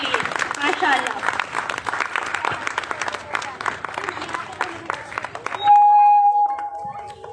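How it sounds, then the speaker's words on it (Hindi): An audience at a Ramadan welcome event claps loudly and steadily for the children, a dense burst of applause that fades out into a sustained tone and quieter background sound near the end. "एक बार जोरदार तालियां बच्चों के लिए"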